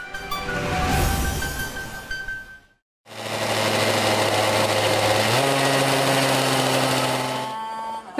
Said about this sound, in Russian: Рев моторов и крутые виражи вновь встречают жителей и гостей поселка Шушинское.